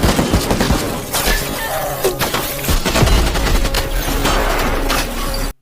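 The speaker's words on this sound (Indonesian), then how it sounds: "Ia kemudian membuang detonator tersebut ke lautan lalu meminta anak buahnya melesatkan tembakan ke arah Lee." Henchmen fire a sustained volley at a ship in the action film The Expendables 4: loud, dense gunfire in rapid overlapping bursts with sharp cracks and a booming low end, ending abruptly.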